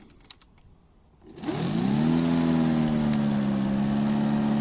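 A stock Parkside X20V Team cordless lawnmower motor spins up from near silence after a few faint clicks, then settles into a loud, steady electric whine that holds without a break.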